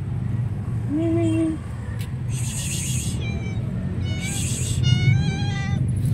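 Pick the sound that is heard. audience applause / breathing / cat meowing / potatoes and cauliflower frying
cat meowing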